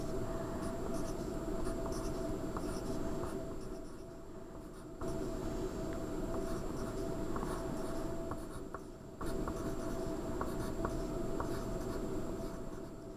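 Pencil writing pitch labels for Ode to Joy onto paper, a steady close scratching that runs nearly continuously, dipping briefly twice as the pencil lifts, with no voices.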